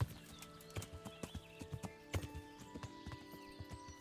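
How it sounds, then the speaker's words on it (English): A horse's hooves clip-clop at an even walking pace in the video game Kingdom Come: Deliverance, crisp and close, over soft sustained musical tones. "I can't climb up this fucking incline with a fucking horse"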